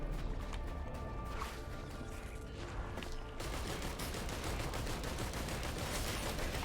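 Rapid, continuous gunfire from the player's weapon in a level-based shooter game, firing without pause as dense crackling bursts that grow louder and more intense halfway through, with no talking.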